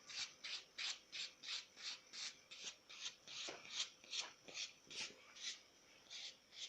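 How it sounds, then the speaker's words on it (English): A nail buffer scrubs across a nail wrap applied over acrylic nails in quick, even back-and-forth strokes, about twenty soft raspy swipes in a steady rhythm, close and quiet. "get your buffer and just give it a buff at the end"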